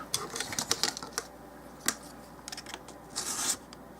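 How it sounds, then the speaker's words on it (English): Scissors snip through paper while cutting out a doll-size book, a series of crisp, close clicks and slicing bursts in an uneven rhythm with short pauses between cuts. "Now, let's cut this guy out."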